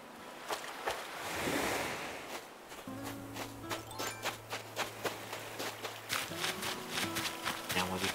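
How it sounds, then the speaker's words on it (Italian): Water ambience in Animal Crossing: New Horizons, a steady wash of gentle surf-like waves on an island, mixed with soft rhythmic footstep taps and a low musical tone, moderately quiet throughout. "Bello il rumore dell'acqua."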